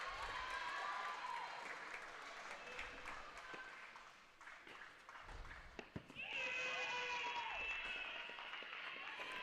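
Teammates at a women's college tennis match applaud and cheer from the sidelines, a steady wash of clapping and voices at moderate distance, with whoops and shouts rising toward the end.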